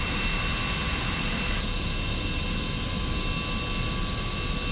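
Two aircraft engines run at a steady, loud roar with a broad constant drone and high whine, engine number 2 having been started first during a ground engine run.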